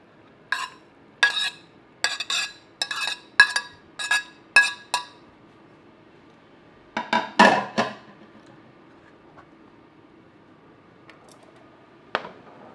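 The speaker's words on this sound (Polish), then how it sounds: "I to wszystko razem wymieszamy." Cucumber, tomato, onion, parsley and mint for tabbouleh are stirred together in a bowl, giving a run of sharp, evenly spaced clinks of a spoon against the dish, then a few louder scrapes and a last faint tap.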